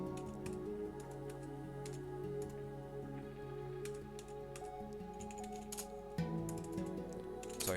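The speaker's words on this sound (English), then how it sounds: "Sorry for my terrible typing." A computer keyboard is typed on steadily and quietly, the soft key clicks sitting under a constant background hum, with no talking.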